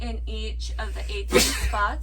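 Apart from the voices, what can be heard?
sneeze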